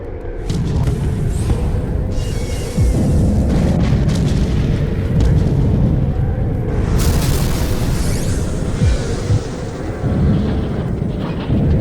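Heavy bomb detonations in Hitman Contracts, a loud sustained rumbling blast with rolling booms and debris bursts continuing throughout without talk.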